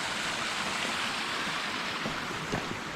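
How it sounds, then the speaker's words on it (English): A small waterfall spills into a fairy pool beside a coast-to-coast walking trail, giving a steady, close rush of water with no voices. "How sweet it is, that little waterfall with a fairy pool."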